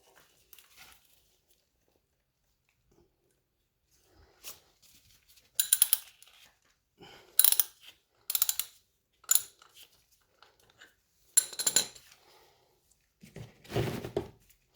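Oil filter on a 2013 Suzuki GSXR being loosened with an oil filter removal tool, heard as sparse, short metallic clicks, clanks and scrapes separated by quiet gaps, close by with no talking.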